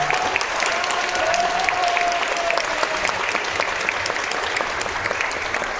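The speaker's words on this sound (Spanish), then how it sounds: "Démosle un gran aplauso a nuestro compañero." Audience applause for a fellow participant at a gathering on gender violence, a dense, even wash of many hands clapping steadily for several seconds at moderate distance.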